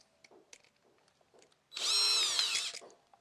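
A power drill whines briefly as it tightens the terminal screw on a black hot wire of an electrical outlet. The burst is loud and steady and lasts about a second, following light clicks and handling noises.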